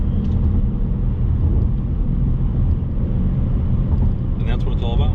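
A 2020 Ford Mustang Bullitt cruises at 60 mph, heard from inside. A steady, deep engine and road rumble fills the cabin, and a voice is briefly heard near the end.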